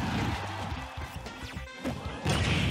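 Heavy smash-attack impacts from Palutena in Super Smash Bros, a few loud crunching hits over busy game music and effects, with no voices.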